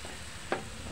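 Vegetables with shrimp frying in a pan as a splash of water goes in, a steady sizzle with two brief louder bursts of spitting hiss, no voices.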